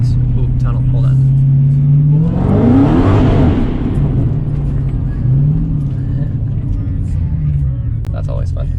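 A Dodge Hellcat's engine revs hard inside a tunnel: a loud, continuous rumble that climbs into a rising roar near the middle, then settles back into a steady drone that echoes throughout.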